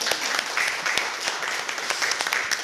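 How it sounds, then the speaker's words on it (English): Audience applause at a conservatory festival forum talk, a dense burst of many hands clapping continuously at moderate loudness, with no voices over it. "I love that there's always an applause for a video of me at this point"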